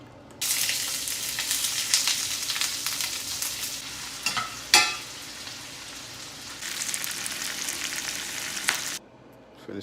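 Plantain frying in a deep fryer gives off a continuous bright sizzle and crackle, close and steady, with one sharp pop midway before the sound cuts off.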